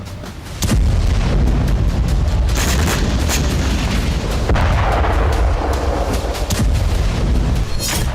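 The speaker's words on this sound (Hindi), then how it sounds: "बम का धमाका, क्यों कांपा इलाका।" A heavy, booming blast erupts after a brief quiet start, followed by a sustained loud roar and rumble of debris that stays dense and intense to the end.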